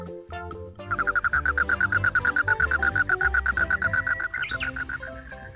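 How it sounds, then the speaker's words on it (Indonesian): A frog croaks in a rapid, steady pulsing series of bright, buzzy calls lasting several seconds, loud and close, preceded by a few softer notes and ending with a short higher chirp. "Wow, ini ada kodok."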